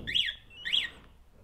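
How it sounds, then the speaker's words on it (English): Two short, high electronic warbling chirps from a motorcycle alarm, evenly spaced, fairly quiet, with nothing else around them. "That's the alarm going off."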